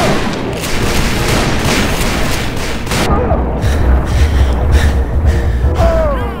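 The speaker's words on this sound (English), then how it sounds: "That's why I like this rifle." Rifle shots crack repeatedly in a Call of Juarez: Bound in Blood gunfight, loud booming reports layered over a dense battle din with no voices.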